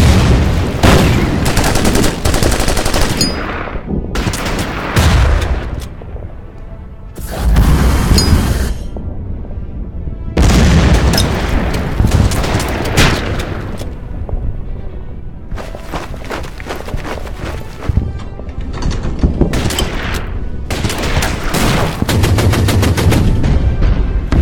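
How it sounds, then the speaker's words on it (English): Heavy artillery and gunfire in the World War II strategy game Order of Battle: Burma Road, loud booming bursts and rattling machine-gun fire in long dense waves with brief lulls between. "Man, they have an amazing amount of artillery."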